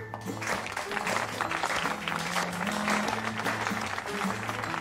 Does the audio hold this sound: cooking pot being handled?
no